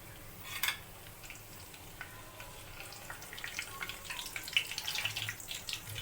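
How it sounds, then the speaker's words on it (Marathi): Whole spices sizzle in hot oil for a mutton gravy, a faint, crackling fry with a few sharper pops and spoon stirring against the pan. "तेल गरम झालं, हा खडा मसाला टाकते मी."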